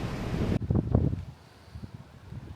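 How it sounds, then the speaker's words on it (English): Strong wind blows across the beach at Cape Henlopen State Park during big surf, a loud buffeting rush at first that drops to a lower, gusty roar, with a sharp gust at the very end. "It is really, really windy."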